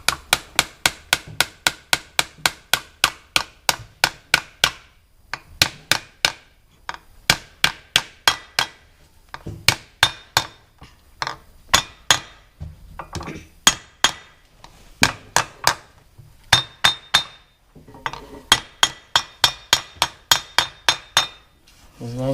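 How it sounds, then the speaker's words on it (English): A small brass hammer taps repeatedly on a bearing seal during a Case 1840 skid steer bearing replacement: bursts of sharp, bright metallic strikes in quick rhythmic runs separated by short pauses. "I just like to use one of these little brass hammers here"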